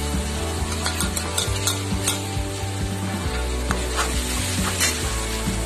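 Tomatoes with ginger and garlic sizzle and fry in a pan for a chicken curry while a spoon stirs them, the steady frying hiss close and continuous with scraping strokes throughout, no voices.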